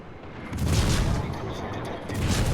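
Naval guns boom from a cruiser, the Mainz, in World of Warships, heavy low rumbling blasts rolling together with no clear single shots, while a voice talks over the gunfire.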